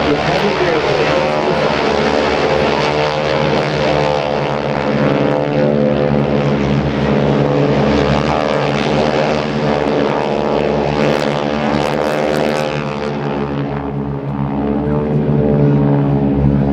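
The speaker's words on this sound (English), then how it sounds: "On the takeoff roll now, the GEICO Skytypers from Farmingdale, New York at Republic Airport." GEICO Skytypers propeller planes roll for takeoff at Republic Airport in Farmingdale, New York, during a joint services open house. A loud, steady multi-engine drone with rich harmonics holds throughout, and an announcer talks over it.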